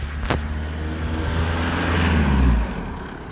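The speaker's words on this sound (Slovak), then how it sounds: "preto počuť auto." A car passes outside, its engine hum swelling to a loud peak and then fading, with a brief click near the start.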